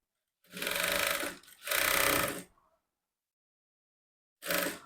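A sewing machine stitches a blouse side seam in three close, loud whirring runs, two back to back and a short one after a pause, with no talk.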